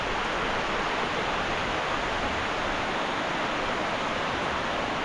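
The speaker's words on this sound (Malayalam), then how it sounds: "മഴയും കാറ്റും" Rain and wind outdoors, a steady, dense broadband rush that stays even and unbroken throughout, close and fairly loud, with no voices.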